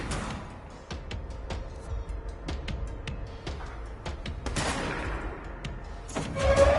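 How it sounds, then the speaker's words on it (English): Gunfire aimed at the player in the video game Control, heard as a string of sharp, fairly faint shots at irregular intervals with denser bursts toward the end. "Who is shooting at me?"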